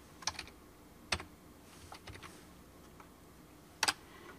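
A computer keyboard gives a few isolated, crisp key clicks, spaced out with quiet gaps in between, close and fairly soft, with no talking.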